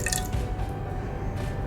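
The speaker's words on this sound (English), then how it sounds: "Then I've taken 1 egg and I'll add in 3 tablespoons of water." Water spooned into a cracked egg in a bowl for homemade egg noodles, a brief close splash and trickle with a faint squish, loud and continuous over a short moment.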